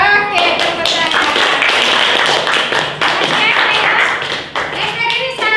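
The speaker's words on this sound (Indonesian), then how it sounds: "Oke, tepuk tangan." A classroom of students claps their hands together in a loud, dense round lasting several seconds, close by, with a teacher's voice over it.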